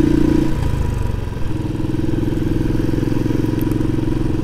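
A small motorcycle engine runs on a mountain road toward a volcano, giving a steady, close, throbbing putter with a fast regular pulse, briefly dipping then settling back into an even drone.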